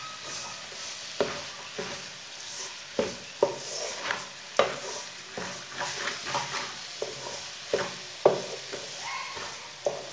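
Spoon stirring carrot halwa as sugar, finely chopped dried coconut and raisins with dry fruits go into the pan, giving repeated scraping and knocking strokes with a soft sizzle underneath, close and steady, with no talking.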